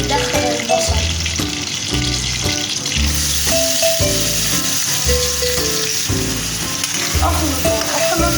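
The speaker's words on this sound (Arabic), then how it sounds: "بعد ما دخلنا الزيت بندخل البصل." Onions frying in hot oil for an egg ghotala breakfast, a bright continuous sizzle with rhythmic low thumps beneath, likely background music, holding steady and close throughout.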